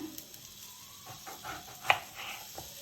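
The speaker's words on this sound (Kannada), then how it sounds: "ಅಲ್ಲಿವರೆಗೂ ನಾವು ಬದನೆಕಾಯಿ ಕೊಯ್ಕೊಳ್ಳೋಣ ಸಣ್ಣಕ್ಕೆ ಕೊಯ್ದು" A knife cuts brinjal into small pieces on a board, giving a handful of faint, close, irregular chopping taps, with one sharper knock standing out.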